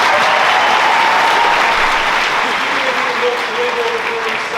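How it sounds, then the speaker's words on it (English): A graduation audience at a high school commencement ceremony applauds loudly and steadily for the full length, a dense wash of clapping with faint crowd murmur and some voices underneath. "Let's give her another round of applause."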